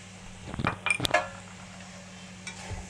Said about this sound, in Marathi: ह्याला असं सगळं हलवून घ्यायचं एकत्र